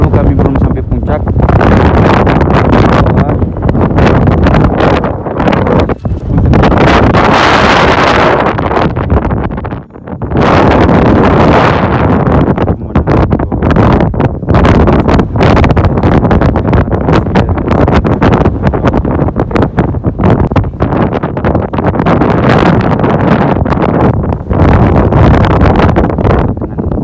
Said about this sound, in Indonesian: Kalian bisa dengar suara angin itu sangat deras pokoknya